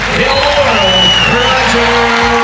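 Crowd applause at a tennis event greeting the world number one player, loud sustained clapping with some cheering, while an announcer's voice carries over it.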